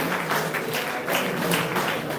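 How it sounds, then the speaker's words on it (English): An audience at an inter-school sports association launch event claps in a rhythmic, repeated pattern, moderately loud and fairly close, with no speech over it. "Let's clap for them."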